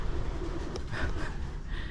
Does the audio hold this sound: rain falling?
no